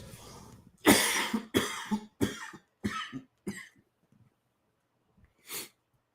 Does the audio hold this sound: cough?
yes